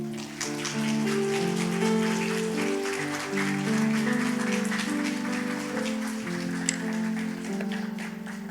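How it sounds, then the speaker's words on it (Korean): A church congregation applauds to welcome the pastor at a revival service, steady clapping mixed under sustained music for several seconds. "우리 목사님 나오실 때 박수로 환영하도록 하겠습니다"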